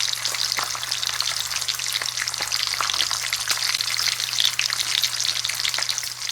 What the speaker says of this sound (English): This is a chain made by Meinl, and it's designed to make your cymbal sizzle like bacon in a pan.